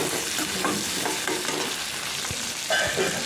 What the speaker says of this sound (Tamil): தக்காளி வெங்காயம் நல்லா வதங்கட்டுங்க.